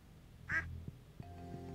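Duck quacking in the farming video game Stardew Valley, one short bright quack near the start, followed by faint clicks and a quiet game tone, with no talk.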